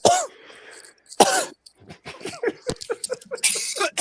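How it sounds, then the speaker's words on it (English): A man coughs harshly after drinking, with several loud close-up bursts and throat clearing, then smaller coughs and breaths in between. "He's coughing, so he drinks more."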